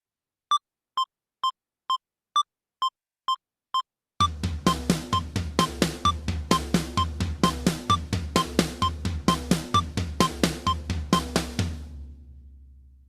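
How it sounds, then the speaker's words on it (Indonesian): A drum rudiment of paired strokes: a few sparse, evenly spaced hits, then a fast, steady roll of rapid double beats ringing on a kit, played alone. "Double stroke seperti apa bunyinya saya perlihatkan."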